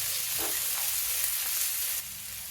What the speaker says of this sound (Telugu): కొంచెం ఇవి గోల్డెన్ బ్రౌన్ వచ్చే వరకు వేయించుకుందాం